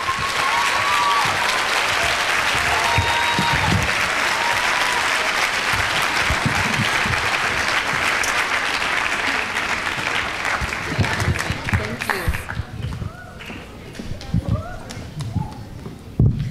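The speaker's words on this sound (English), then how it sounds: "Let's give her another round of applause." A large crowd applauds at a youth excellence awards ceremony, the clapping loud and sustained for about twelve seconds before thinning out into scattered claps and murmuring voices.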